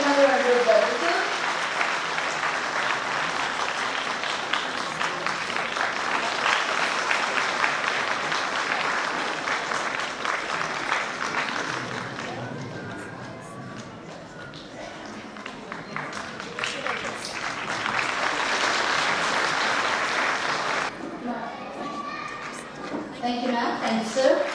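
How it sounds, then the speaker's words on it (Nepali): Sustained applause from an audience at a Parents' Day celebration honoring guests, dense clapping that swells and dips over about twenty seconds, with a brief lull midway and voices mixed in near the end. "फिल्म में एक्चुअली जोरदार ताली के साथ चालू करते हैं"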